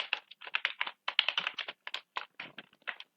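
Computer keyboard typing: a quick, uneven run of crisp key taps in short bursts with brief pauses, close and fairly quiet, no voices.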